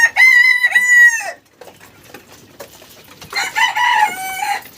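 Two loud, close calls from a big Brahma hen, one at the start and another near the end, each strained and drawn out, separated by a quiet stretch of faint rustling.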